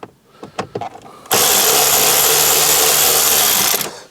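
Electric ratchet spinning out T25 Torx screws from the stereo surround of a facelift Fiat 500, a loud steady whir running about two and a half seconds after a few light taps and clicks.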